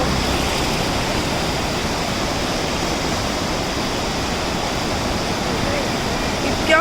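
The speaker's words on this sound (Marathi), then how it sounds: "इथे एवढं पाण्याचा फोर्स आणि पाणी फोर्सने जात आहे" Water from the opened gates of Barvi Dam near Badlapur in the rainy season rushes out with great force, a loud, continuous broadband roar that holds steady throughout with no break.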